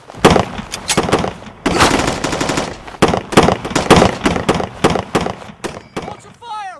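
Rapid gunfire in a war film, with dense machine-gun bursts and single shots cracking loudly and close over several seconds, and a voice shouting near the end.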